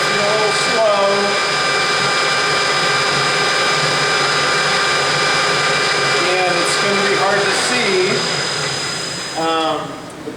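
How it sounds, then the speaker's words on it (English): A lathe spindle running while cutting aluminum, a loud continuous whirring drone with steady tonal whine, with someone talking intermittently over it. "clamp my tailstock, turn on my spindle, feed in, and then once I start cutting"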